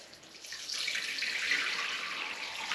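A metal strainer is rinsed under a running kitchen tap, giving a steady splashing hiss of water that swells slightly partway through, close and fairly loud with no talking.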